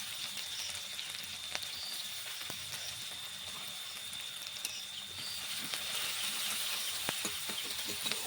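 Chopped onions and green chillies fry in oil left over from frying fish, a soft continuous hiss with occasional small pops, steady and close, slightly louder toward the end, with no voices.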